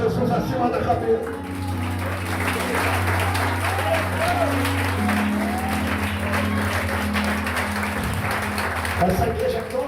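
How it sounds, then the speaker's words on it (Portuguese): A church audience applauds with sustained, dense clapping that fills the room, while a voice speaks loudly over it and the clapping tapers off near the end. "aplauda Jesus acima da cabeça"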